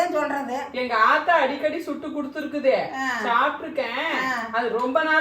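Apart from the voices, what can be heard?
None of the usual background noises is heard.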